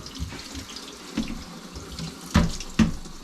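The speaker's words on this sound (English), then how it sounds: "sometimes you can rinse some of the grease off by putting hot water over the ground meat" Hot water pours and splashes over ground meat in a skillet from a kitchen tap, a steady running stream with a few louder splashes near the end.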